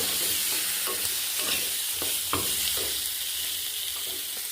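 Four chicken pieces sizzling in a pan for a Bengali mustard chicken curry, a steady close hiss with a few soft scraping stirs across the middle and no voices.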